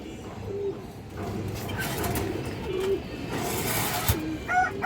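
A restless pigeon coos softly in a few low, short bursts amid steady background noise, with no speech.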